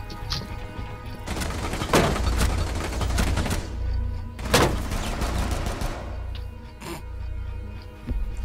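Gunfire crackles in the game Siege: repeated sharp shots and short bursts ring out, with several loud cracks standing above a steady din of distant battle noise.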